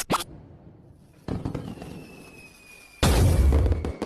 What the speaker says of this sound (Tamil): அண்ணா, இங்க பட்டாசு வெடிக்காதீங்க.